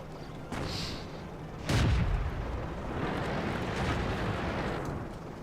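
Tank cannon fire in World of Tanks: a couple of deep, booming shots, one heavy blast near the middle, over a rumbling low engine-like background, with no talking.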